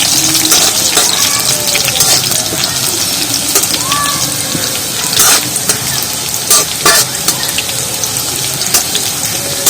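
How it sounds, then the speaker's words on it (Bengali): Garlic frying in oil for a Bengali wedding-style greens dish, loud close crackling sizzle with stirring scrapes and occasional sharp pops and spatters, no speech. "রসুনগুলো দিয়ে দিচ্ছি সেটা তেলের মধ্যে ভালো করে ভেজে নেবো"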